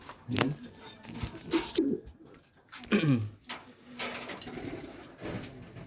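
Domestic pigeons, a mix of King, Beauty, Danish and Pakistani Golden breeds, give repeated close, low throaty coos in short bursts, with someone talking quietly between them.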